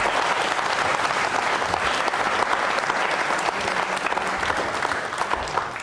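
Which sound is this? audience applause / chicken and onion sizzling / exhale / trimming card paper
audience applause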